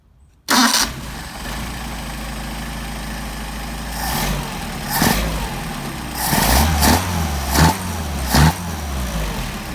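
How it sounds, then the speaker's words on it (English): An engine fitted with Solex 44PHH carburetors is hot started, catching abruptly after a short silence and settling into a loud steady idle, with several sharp revs blipped up and dropping back toward the end. "Now we're going to try a hot start."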